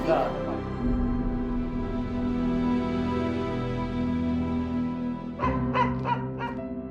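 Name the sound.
dog barking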